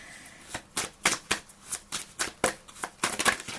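A deck of oracle cards tumbles and is shuffled by hand, a close series of crisp riffling flutters and soft slaps in an uneven rhythm.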